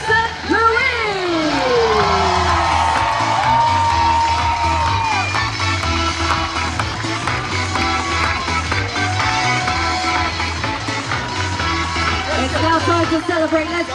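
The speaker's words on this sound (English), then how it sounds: "a big shout, cheer, round of applause" Large crowd at a Super League Triathlon in Singapore cheering and shouting loudly and continuously for a champion, with whoops rising over a steady roar and music-like tones underneath.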